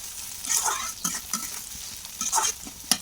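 Green chilies, onion and garlic frying in oil, a close sizzle broken by several quick spatula scrapes and stirring strokes, no one speaking.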